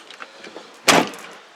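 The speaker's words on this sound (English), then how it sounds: "The door shuts terribly," Faint rattling and shuffling, then a single solid door of a classic Mini slams shut close by, shutting badly, its thud trailing off into quiet.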